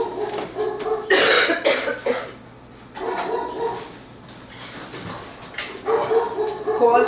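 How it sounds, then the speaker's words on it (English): A dog shut inside an office barks in loud, muffled bursts mixed with whimpers and yips, the outbursts separated by short quieter gaps. "That's why she's barking like that."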